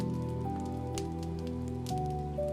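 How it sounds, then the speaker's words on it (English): Steady rain pattering against windows, soft and continuous, beneath a sustained calm musical drone with shifting tones; no speech. "Outside, the rain still whispered against the windows, just as it had before your journey began."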